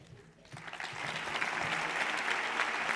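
Audience applause at an award ceremony, a crowd clapping steadily and loudly after a brief quiet start, with faint voices mixed in.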